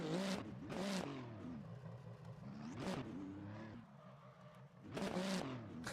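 GTP prototype race car engines in iRacing, several loud revving passes that rise and fall in pitch as cars sweep by, with a steady engine drone between them.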